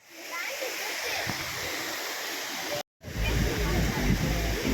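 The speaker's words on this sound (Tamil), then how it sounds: "ஃபால்ஸ் தண்ணி பாருங்க, நல்லா இருக்கு ஃபால்ஸு." Waterfall in Wayanad, Kerala, pouring in a steady, loud broadband rush that cuts out for a split second before resuming at full force.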